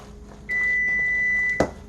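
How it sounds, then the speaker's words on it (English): A kitchen oven sounds one steady high electronic beep lasting about a second, followed by a brief clunk, in a quiet room while a meatloaf is being prepared. "That's the oven, it's ready."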